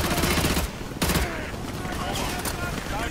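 Rapid, loud bursts of automatic gunfire crackle in Call of Duty: Modern Warfare 2, with two heavy volleys separated by short gaps, while a voice talks over the shooting.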